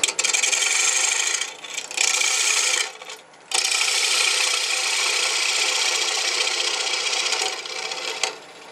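A mahogany bowl spinning on a wood lathe at about 1,000 RPM gives a steady, bright rasping hiss as a tool cuts the wood, with a few short dips where the cut lifts, close and loud with no talk.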